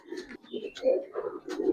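Giribaz pigeons kept at a pigeon seller's, giving soft, low, repeated coos close by, with faint voices in the background.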